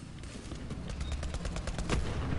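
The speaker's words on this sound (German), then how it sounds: "Sie schießen auf uns!" Enemies shoot at the players in Borderlands 3: a rapid, evenly spaced run of gunshots, loud and close, firing like an automatic weapon with no talk over it.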